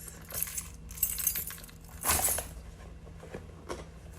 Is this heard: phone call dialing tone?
no